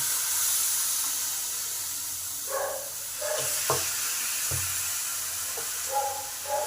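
Batter poured into a hot pan for palm (taal) saru chakli pitha, with the gas turned down low: soft, steady hissing and sizzling with a few faint stirring clinks, close by and alone.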